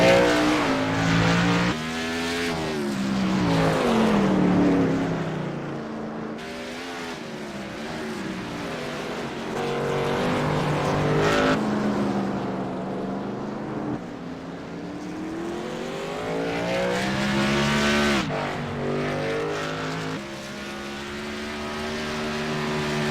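Race cars on a track roar past one after another, engine pitch sweeping up and down as each passes, loud and continuous with no voices.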